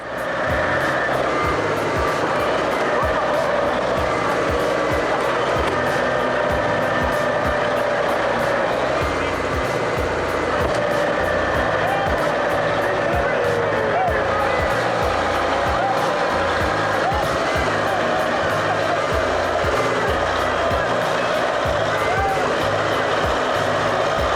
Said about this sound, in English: The engine roars non-stop, smoke billows, the front end lifts.